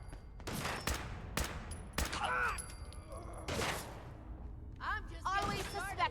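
Gunfire in Fallout 4: several sharp, separate shots with echoing tails spread across the moment, fairly loud against a quiet background, with in-game voices speaking between the bursts.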